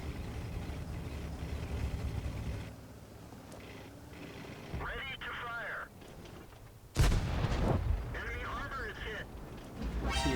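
Tank cannon shots and shell hits in World of Tanks, featuring the Type 59 tank: two heavy booming blasts with rumbling tails, heard under steady talking and game ambience.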